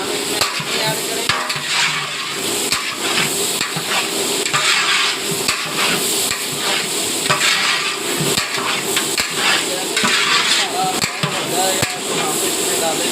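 Ingredients for chicken biryani brown in a pan with a steady sizzle and frying hiss, broken by repeated stirring and scraping strokes, close and loud, while a person talks over it.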